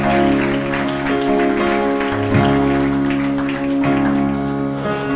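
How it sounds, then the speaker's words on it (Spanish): A church congregation claps along during a Spanish-language worship service, steady crowd clapping blended with loud, continuous music throughout. "Dale palmas al Espíritu Santo de Dios."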